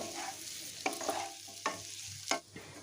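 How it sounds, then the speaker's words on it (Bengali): Fried cauliflower florets being stirred together with the other ingredients in a pan, a few distinct scraping stirs over a soft, steady sizzle. "এখন সমস্ত উপকরণগুলো একসাথে একটু মিশিয়ে নিচ্ছি"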